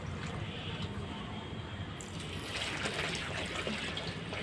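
Borewell water pours into a seed pot in a steady, continuous wash of splashing and trickling that swells partway through, close and fairly loud with no voices.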